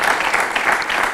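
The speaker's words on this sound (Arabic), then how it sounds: "أي تصفيق" An audience at a televised variety show breaks into a brief burst of loud, dense clapping, close and continuous without pauses.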